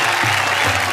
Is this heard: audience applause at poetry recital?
yes